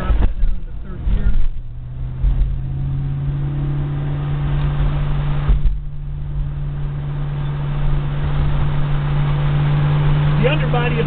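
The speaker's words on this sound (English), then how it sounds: "I drop that down to third gear." A 1971 Plymouth Roadrunner drives along as the driver downshifts into third gear, giving a steady low engine drone with a brief rise in revs, heard from inside the car.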